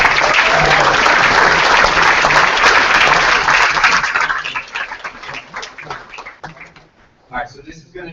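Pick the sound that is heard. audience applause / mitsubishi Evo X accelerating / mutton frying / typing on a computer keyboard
audience applause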